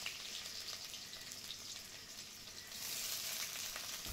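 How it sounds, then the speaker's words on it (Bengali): Chopped raw onion sizzles in hot mustard oil in a wok on a gas stove, a dense, even crackling hiss close by that swells slightly louder toward the end, with no voices. "এবার তেলে দিয়ে দেবো কুচনো কাঁচা পেঁয়াজ।"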